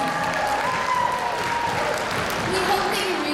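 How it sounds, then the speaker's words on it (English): School assembly audience applauding themselves, a dense, loud, sustained wash of clapping from a large crowd, with faint voices and tones running underneath. "Give yourselves a big round of applause for being such a fantastic audience"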